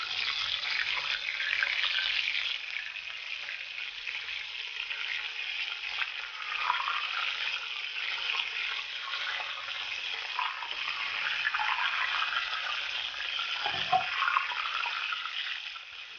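Soya chunks fry and spatter in hot oil in a pan, a steady close sizzle with crackling pops running continuously, alone without talk.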